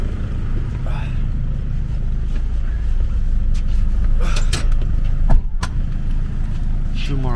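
A bus ride heard from inside on the road back to Bangkok from a Cambodia border run: steady low engine and road rumble throughout, with a few clicks and rattles near the middle and faint voices in the cabin.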